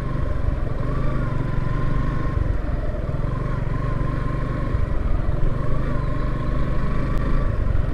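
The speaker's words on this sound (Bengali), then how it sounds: "হ্যাঁ, 2জন বাইকার ওই দিয়ে গেছে" Near a hilly border viewpoint at Jaintapur in Sylhet, a steady engine drone of passing motorcycles runs throughout, low and continuous with a faint whine, moderately close, with no talk over it.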